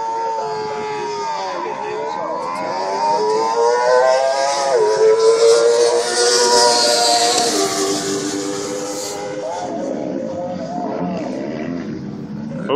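A 2001 Hayabusa motorcycle making a street legal drag race run, its engine roaring loudly and climbing through gears, with a race announcer's voice layered over the sustained howl.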